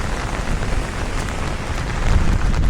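Heavy rain falls on a night in Manila, a loud, dense hiss of drops striking surfaces close by that swells slightly toward the end, with no talking.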